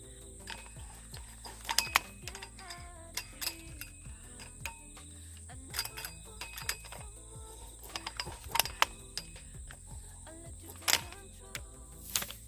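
Gripple wire tensioners on a fence end stay being tightened, a repeated ratcheting click-and-creak of the mechanism in short bursts, close and fairly quiet, with faint steady background noise.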